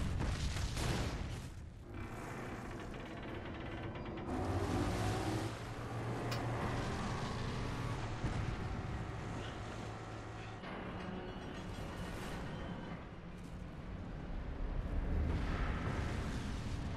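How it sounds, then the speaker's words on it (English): Explosions in the Resident Evil 5 video game, set in an oilfield, roll out as loud, continuous rumbling blasts with heavier bursts swelling and fading throughout. "Cool guys don't look at the explosions, Chris."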